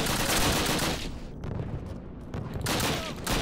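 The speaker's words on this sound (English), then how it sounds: "Why the hell am I using my pistol?" Pistol gunfire in the video game Call of Duty pops in dense, loud bursts that briefly thin out midway before resuming at full strength.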